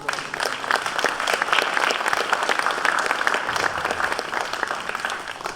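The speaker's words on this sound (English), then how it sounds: "big round of applause for this" Steady, dense applause from the audience at a 2015 Coquitlam-Port Coquitlam federal election debate, clapping continuously at an even level throughout.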